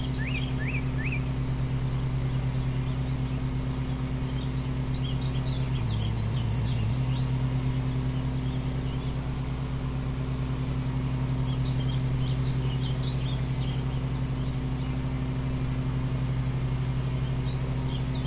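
Birds chirp and tweet in scattered bursts across the ambience of a lawn mower simulator game, set over a steady low engine drone that dips briefly partway through, with no talking.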